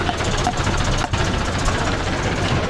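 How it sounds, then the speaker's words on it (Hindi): A tractor engine running while stuck on a muddy, waterlogged road in Zakir Nagar, Okhla, Delhi: a steady, close, low rumbling drone with rough broadband noise throughout and no talk. "फंस गया, ये ट्रैक्टर भी फंस गया।"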